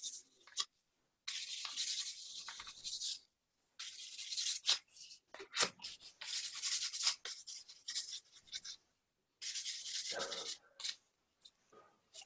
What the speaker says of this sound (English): so they're filed, the edges of the band are filed, they've got that nice beveled edge